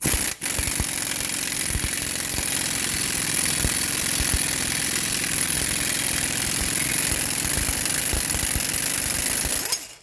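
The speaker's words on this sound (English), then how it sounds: "go ahead and hit it with the gun" Impact gun hammering a bearing press tool into the hub of a 2003 Toyota Corolla, a loud continuous rapid rattling burst running nearly ten seconds without pause, close up and alone.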